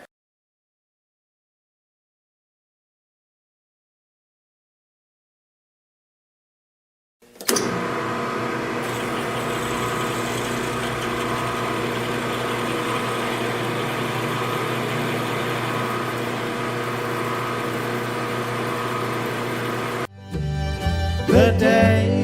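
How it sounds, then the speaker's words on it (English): An 8 mm drill bores through a metal bolt during a table saw fence handle repair: after several seconds of silence, a steady, loud motor whine runs continuously for about twelve seconds, then briefly changes character near the end. "let's take the 8 millimeter drill and see if we can drill all the way through that bolt"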